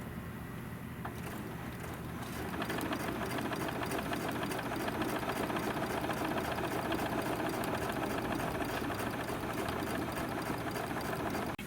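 Sewing machine stitching in the ditch on a trapunto pillow runs in one continuous, steady drone of rapid needle strokes, starting a little softer and then holding loud and even.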